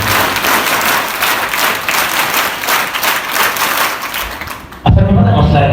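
A seated audience at a rover scouts unit formation ceremony at a girls' college claps in loud, sustained applause that stops abruptly near the end, when a voice begins speaking.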